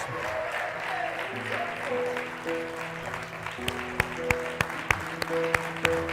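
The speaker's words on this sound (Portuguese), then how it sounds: "Pode aplaudir mais forte. Pode aplaudir 30 segundos ao Senhor." Church congregation applauding in worship, a broad wash of clapping under sustained music tones, with sharper hits growing louder toward the end.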